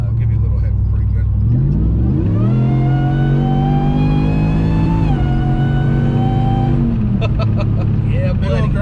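A Whipple-supercharged Hemi engine in a Ram truck revs up under acceleration, climbs to a high held pitch, then eases down, loud and close throughout.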